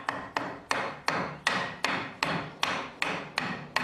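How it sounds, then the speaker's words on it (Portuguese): A hammer drives a wedge into a piece of ash wood to split it, about eleven sharp, evenly spaced blows at a steady rhythm, close and loud with no talk. "Vou colocar uma cunha. Para clivar."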